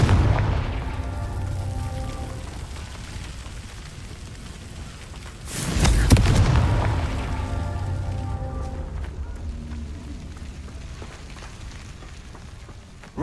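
A Confringo spell explosion in the video game Hogwarts Legacy: a single booming blast bursts out midway over a steady ambient bed with faint tonal music, then fades back to the quieter background.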